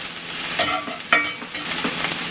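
Hash browns sizzle steadily in a cast iron pan while a small metal spatula scrapes and stirs them, with a few sharp scraping clicks over the constant close frying hiss.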